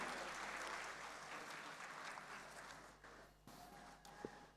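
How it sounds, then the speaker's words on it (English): Applause from a crowd, a dense patter of clapping that holds steady, then thins out toward the end. "Can you please give a big round of applause to Almas Kabir?"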